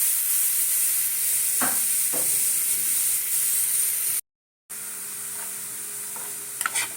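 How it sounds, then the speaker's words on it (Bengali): Carrots sizzle gently in ghee while a utensil stirs with a few soft scrapes; a brief silent gap interrupts the steady frying hiss. "গাজরটাকে একটু ঘিয়ে নাড়িয়ে নিচ্ছি"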